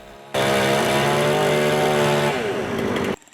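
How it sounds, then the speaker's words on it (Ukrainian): A chainsaw trims tree branches on a city street. The engine roars loud and close at a steady high pitch, dips slightly near the end, then cuts off abruptly. "Інші комунальники проводили роботи з підрізки гілок дерев на вулиці Портова."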